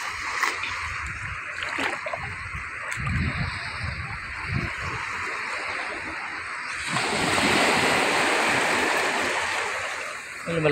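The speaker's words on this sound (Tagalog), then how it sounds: "malakas ng alon ah" Strong sea waves washing in on Masasa Beach, with clear water over white sand, roaring close with gusts of wind buffeting the microphone and swelling into a louder rush of surf toward the end.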